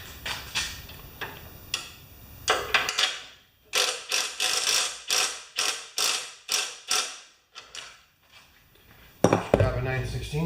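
Tightening a nut with a wrench on a Craftsman snowblower gives a series of short, sharp metallic clicks and scrapes, roughly a dozen in a steady rhythm. Speech is heard at the start and near the end.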